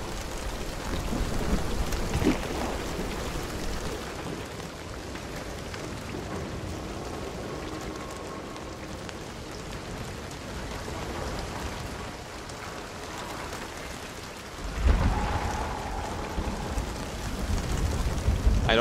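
Steady rain falls in the video game Hunt Showdown, a constant hiss with low thunder rumbles rolling in and a louder crack of thunder toward the end.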